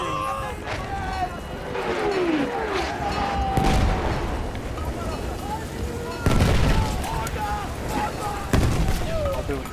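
Artillery strike in the video game Battlefield 1: heavy booming blasts land at intervals over a steady din of battlefield noise, with several sharp, loud impacts standing out near the end.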